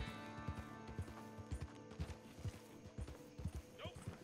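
A horse trots in Red Dead Redemption 2, steady rhythmic hoof clip-clops repeating about twice a second, fairly close, beneath game ambience and music, with a player's voice talking over it.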